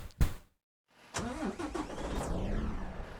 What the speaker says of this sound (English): Someone's engine turning on.